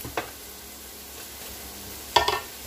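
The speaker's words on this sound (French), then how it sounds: "Donc je vais faire revenir mes oignons. Je vais mettre l'ail." Onions with garlic being added, cooking in a pan: a soft, steady sizzle with two brief louder stirring scrapes near the start and end, close by and without talk.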